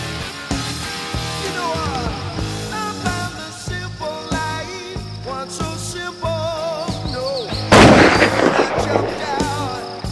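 Sniper fire in the video game Operation White Panda lands as one heavy, booming shot late in the clip, over a steady bed of music and chirping bird sounds.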